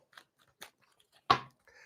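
A tarot card deck being shuffled, a few soft riffling bursts and then one loud, sharp rush of cards near the end, close and quiet overall with no talk.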